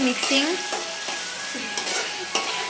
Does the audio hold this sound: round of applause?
no